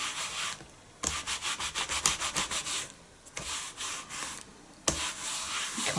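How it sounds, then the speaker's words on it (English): A rubber stamp is scrubbed clean on a scrubbing mat, making brisk, rhythmic back-and-forth rubbing strokes in quick bursts, separated by short pauses, close and moderately loud. "I'll just quickly clean our stamp."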